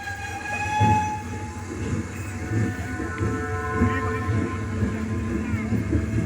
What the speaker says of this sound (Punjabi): ਇੱਕ 8 ਡਾਊਨ ਪੈਸੇਂਜਰ ਟ੍ਰੇਨ ਸ਼ਾਹਜਹਾਨਪੁਰ ਦੇ ਛੋਟੇ ਸਟੇਸ਼ਨ ਤੋਂ ਰਵਾਨਾ ਹੋਈ